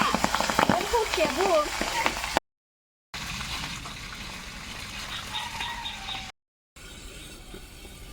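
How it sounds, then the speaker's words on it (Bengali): Pabda fish frying in hot oil at home, a dense crackling sizzle that stays steady and close, interrupted by two brief dropouts to silence, with a fainter, thinner hiss after the second break. "তেল গরম হয়ে গেছে এখন পাবদা মাছ ভাজি"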